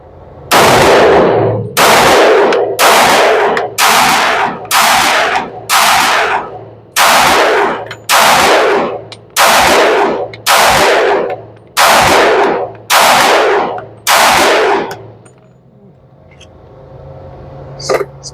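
A Glock G23 pistol chambered in .357 SIG fires about a dozen loud, sharp shots at a steady pace, each blast ringing out briefly before the next, then stops, leaving quiet outdoor air.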